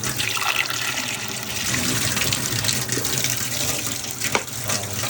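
Water from a reverse osmosis filter system runs and pours into a jug in a steady, close, continuous splashing stream with a small clink near the end.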